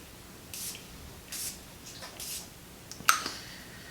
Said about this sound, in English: Just going to give a couple sprays on that.